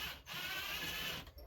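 A ratchet turning a left-hand threaded part on a budget 4X race bike in a workshop: a quiet, rapid mechanical clicking that runs for about a second, close and alone.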